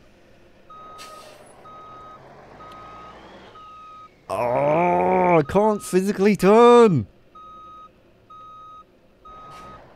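Truck reversing beeps in the BeamNG Drive driving game, a steady run of evenly spaced electronic tones that stop while someone speaks loudly over a groaning strain, then resume alone at the end.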